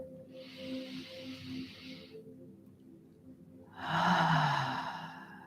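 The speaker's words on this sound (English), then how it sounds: "Can we take a breath together?" A slow, deep breath is drawn in and released during a calm self-love meditation, heard as a soft airy hiss for a couple of seconds, a short pause, then a louder, fuller exhale over a low steady background hum.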